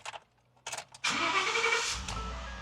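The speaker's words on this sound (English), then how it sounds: "Engine fires right up." Ford F-150 pickup from the 2004–2014 range starting on its original key: a few clicks and key jingles, then the engine catches abruptly and settles into a close, steady idle.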